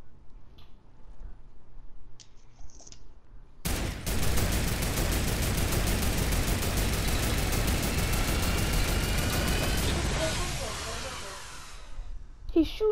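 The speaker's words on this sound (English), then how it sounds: "He's shooting at me." Rapid automatic gunfire in the Fortnite video game bursts in suddenly and roars continuously for several seconds, loud and dense, then tapers off, with a player's voice faintly under the quieter stretches before it.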